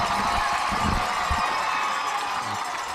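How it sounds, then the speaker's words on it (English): Crowd at a varsity high school football game cheering and roaring continuously for three seconds, a loud, dense wash of voices with a few bursts of nearby shouting. "You can hear the crowd. The crowd is very, very happy about all this."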